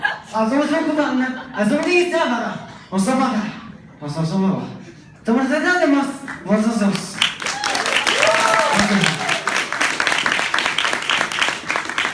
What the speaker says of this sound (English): You got a nice round of applause.